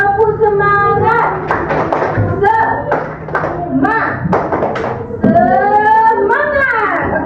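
Schoolchildren in an elementary classroom clap a rhythmic spirit clap, sharp hand claps in a patterned beat mixed with children's voices chanting and a teacher talking over them.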